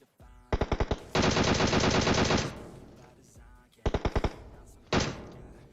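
Automatic gunfire in the mobile battle royale game PUBG Mobile: a quick burst of single shots, then a long sustained rattle of rapid fire, followed later by two shorter bursts, loud and close with no talking.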